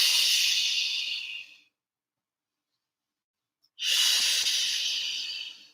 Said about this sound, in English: And just breathing.